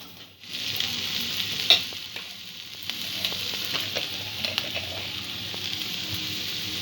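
Egg mixture fries in a pan until the runny yolk dries out, with a continuous close sizzle. Scattered spatula taps and scrapes sound over it, one sharper knock early on, and no talking.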